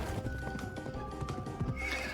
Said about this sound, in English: Another like minute of just kind of riding the horse.